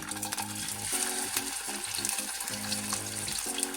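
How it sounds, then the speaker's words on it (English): Dumplings and yam fry in a pan with a steady, close sizzle and crackle, while a faint musical tone drones underneath throughout. "So we're going to fry up the dumpling and fry up the yam."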